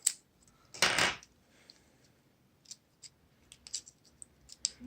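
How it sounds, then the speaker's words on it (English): A short burst of sharp metallic snipping as scissors perforate a paper nail form, followed by a few small, quiet clicks and snips in a quiet room. "I'm going to use scissors to perforate this."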